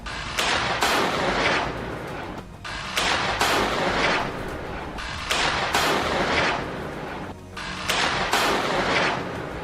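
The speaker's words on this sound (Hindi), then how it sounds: "इसके बाद ये विस्फोटक अपने आप फायर होने लगते हैं" Several rockets wired to an explosive device launch on their own in a Rafah combat zone: a run of loud, close, roaring blasts, each lasting about a second, with a sustained rushing noise between them.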